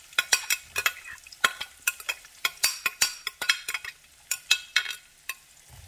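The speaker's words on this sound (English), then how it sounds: "now we're gonna go on in with our celery and garlic" Celery and garlic sautéing in oil and butter, heard as a faint sizzle under a string of sharp clinks and scrapes from a utensil stirring the pan in an irregular rhythm.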